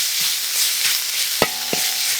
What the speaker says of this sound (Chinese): 现在把这个猪肉啊下锅炒一下，给它炒出油来